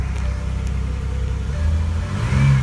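A Pontiac Grand Prix engine runs steadily just after starting, a continuous low rumble that swells slightly toward the end as if lightly revved, close by with no talking.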